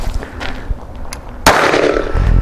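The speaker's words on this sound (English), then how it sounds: "the safety off on this little P17 KelTec and point shoot at the target. 2 shots." A KelTec P17 pistol fires a single sharp, loud shot about midway through, followed by ringing noise; the second of two shots is not distinctly separated.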